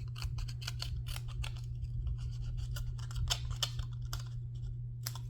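Scissors cutting paper down to size for a folded craft, a close, steady series of crisp snips and slicing strokes over a low constant hum.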